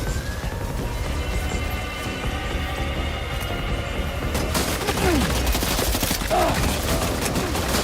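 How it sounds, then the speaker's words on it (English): Rapid bursts of gunfire aimed at the player in a video game, dense and loud, with a siren-like wail and a shift to busier, brighter noise midway; no talk over it. "Oh, somebody's trying to shoot me."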